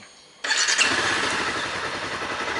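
A Honda CBR 250 motorcycle engine cranks and catches abruptly, then settles into a loud, steady, rumbling idle close by.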